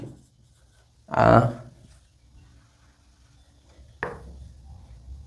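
Chalk or pen strokes mark a board during a lesson on a great social reformer, with a burst of scratchy writing around the first second and a shorter stroke near the fourth, over a quiet room with a teacher's voice.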